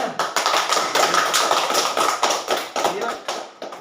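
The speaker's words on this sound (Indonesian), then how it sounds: "Ya, tepuk tangan dulu buat tugas yang pertama. Keras, tepuk tangan." A classroom of students bursts into loud, dense applause to mark the end of the first group's task, with rapid clapping filling the room and voices mixed in underneath.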